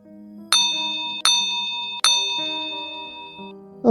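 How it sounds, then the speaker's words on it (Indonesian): A small bell on a fishing rod rings out three times in quick succession as a fish takes the bait, each clear metallic ding decaying slowly, close and alone. "lonceng kecil tanda umpan disambar ikan"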